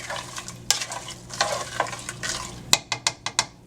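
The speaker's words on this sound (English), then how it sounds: "Add your butternut squash. Give it a quick stir" Butternut squash gets a quick stir in a pot, a spoon scraping and clinking against the metal over a soft sizzle, ending in several sharp, evenly spaced taps on the rim.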